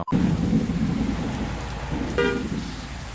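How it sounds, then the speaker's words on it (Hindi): Video game truck-driving simulation: steady heavy rain pours throughout as low thunder rumbles underneath, with a brief sharper crack near the end. "ऊपर बादल भी गरज रहे हैं।"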